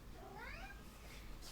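A pet cat gives a single short, faint rising-and-falling meow against a quiet background.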